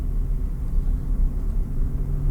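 Rolls-Royce pulling away under power on a dual carriageway, a steady low engine and road rumble heard from inside the cabin, continuous and fairly loud with no talk.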